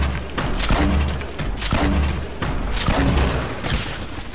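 Grenade explosions in the video game Fortnite, four heavy booms spaced about 1.2 seconds apart, each a loud broadband burst with a rumbling tail over a steady low game drone.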